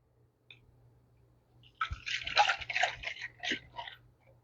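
Juice poured into a glass at home: a splashy, gurgling stream starts after a short quiet moment and runs for a couple of seconds before tapering off, close and clear.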